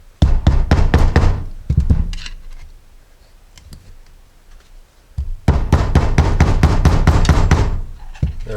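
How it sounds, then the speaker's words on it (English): Sharp, rapid metallic knocks as a screwdriver is hammered behind the lip of an old seal in a Jeep Saginaw steering gear box, loud close bursts of strikes with a quieter pause in the middle, no talking. "Just gently hammer this out."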